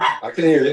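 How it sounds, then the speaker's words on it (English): A pet dog barks from another room during a video call, a few sharp yaps mixed in with and partly masked by people talking over the line. "That's my dog barking."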